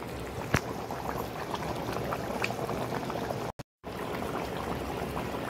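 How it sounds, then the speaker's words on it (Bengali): Egg curry simmers and reduces in a pan with a steady, close bubbling and hissing that barely breaks, apart from one sharp tap near the start. "ঝোলটা আর একটু শুকিয়ে যাক।"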